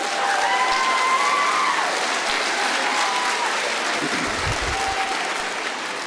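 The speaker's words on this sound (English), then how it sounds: "if we could give those students a big round of applause" Audience at a Christmas celebration applauding the student stage crew: broad, even clapping that holds steady for several seconds, with a few faint voices and light cheers in the background.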